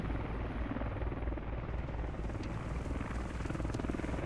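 A helicopter in the military shooter game Squad makes a steady, loud rotor thrum with rapid blade chop that holds throughout, close and continuous without speech.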